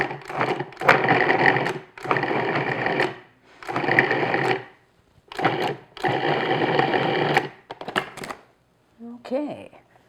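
A food processor pulses butter and flour into coarse crumbs in about six loud, whirring bursts of varying length, separated by short pauses, with a faint rattle near the end.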